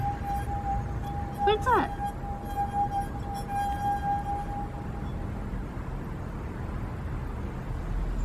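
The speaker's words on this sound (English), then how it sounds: "Yeah, it's a wine glass." A wine glass clinks near a golden retriever, one sharp ringing tap followed by a sustained tone that fades over several seconds, with a person speaking briefly over it.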